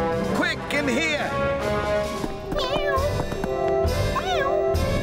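Cartoon cat meows repeatedly, clear and close, over a busy animated soundtrack with music and effects, in a children's Postman Pat episode set in a church.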